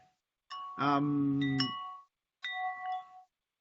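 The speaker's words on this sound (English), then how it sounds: "let's wait that the bells stop" Bells ring clearly with no talk, a sustained bright chime swelling and fading through the middle, then a shorter second peal after a brief gap.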